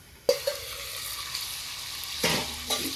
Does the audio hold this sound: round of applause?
no